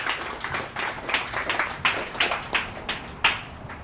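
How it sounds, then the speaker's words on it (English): An audience at a crypto trading event giving a round of applause, sparse individual claps from a small crowd rising and falling in uneven bursts, fairly close. "Let's give a round of applause."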